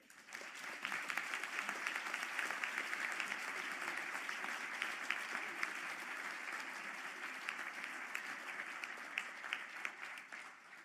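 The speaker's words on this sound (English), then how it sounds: "for a well-deserved round of applause." A ceremony hall full of people applauds engineering graduates at a university conferring ceremony, a long, even round of clapping rising quickly and sustained for about ten seconds, slightly distant with no speech.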